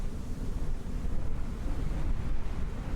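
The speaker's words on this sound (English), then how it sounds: "you can hear the wind howling straight away" Wind howls steadily outside an aircraft with its door open in Microsoft Flight Simulator, a loud, continuous rushing roar with no pauses.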